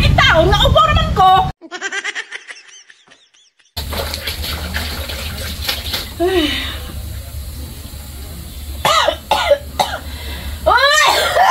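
Someone coughs several times in short harsh bursts while voices talk nearby over steady background noise, with a quiet gap partway through.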